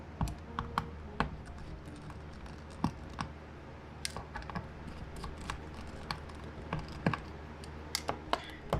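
Small screws being backed out of the bottom plastic piece of a TCL 20XE phone, heard as a steady run of light, close ticks and clicks with no talking.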